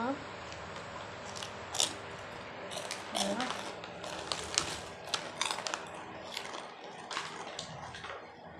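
Crispy Thai pork rinds crunched between the teeth in repeated sharp bites, close to the mic, over a steady background hum during a late-night som tam meal in the rain.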